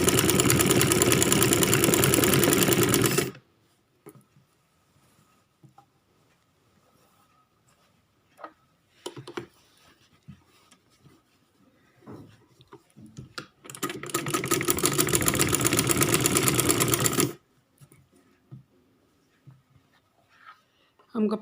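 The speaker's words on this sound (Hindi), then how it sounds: "अब ये देखिए हम सिलाई लगाने लगे हैं इसको" A sewing machine stitches a kurti along buckram in two loud, steady runs, one at the start and one in the middle, with quiet handling and fabric shuffling between the bursts.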